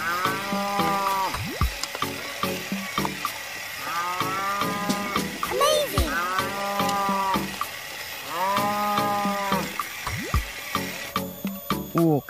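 Cattle low repeatedly during a sacrificial slaughter, several loud drawn-out moos spaced through the recording, with splashing water and faint voices in the background.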